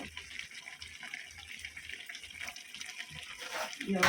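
Water poured into a pot of milk in a home kitchen, a steady splashing gush that swells toward the end.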